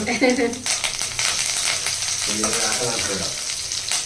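Spices frying in hot oil in a pan for a Telugu home-cooked dish, a loud, continuous close sizzle with bursts of crackling and stirring, no talking.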